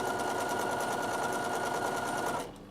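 A sewing machine runs continuously and loudly up close, stitching fabric at a steady rhythmic pace before stopping abruptly near the end, with no voices.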